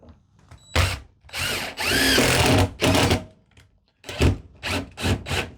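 Several short bursts of a power drill driving a screw during a box van build, whirring and revving, stopping and starting with pauses between, close and fairly loud.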